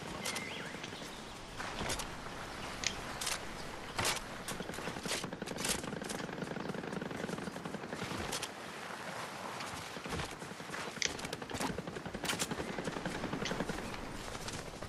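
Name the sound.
light machine gun firing rapidly in Fortnite video game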